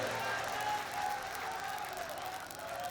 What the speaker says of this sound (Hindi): एक बार जोरदार ताली की गड़गड़ाहट के साथ में स्वागत करें